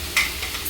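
Potato pieces fry in hot oil in a pan as cut drumstick pieces go in, giving a soft steady sizzle with a brief louder burst near the start, close and without talk.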